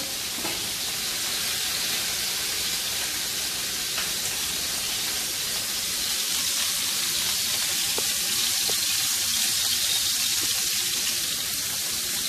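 Bacon sizzles steadily in a pan as it releases its fat, a constant close crackling hiss with occasional sharper pops and no voices.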